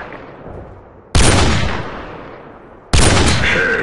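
Two loud, close sniper rifle shots in Call of Duty 4, each a sharp blast followed by a long decaying echo, spaced nearly two seconds apart.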